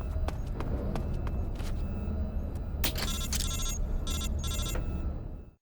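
In Metal Gear Solid 3: Snake Eater, a codec phone call rings as a cluster of bright, repeated electronic bursts. Game ambience plays underneath, and everything cuts off abruptly at the end.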